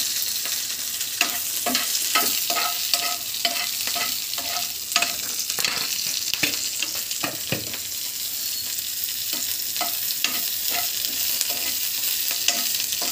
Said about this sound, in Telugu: వేయించాలండి ఈ విధంగా